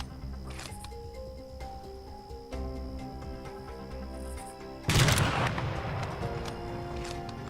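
A sniper rifle shot in the ARMA 2 video game with the A.C.E. mod cracks out sharply once near the end, over a steady layered game ambience with soft tones and faint background noise.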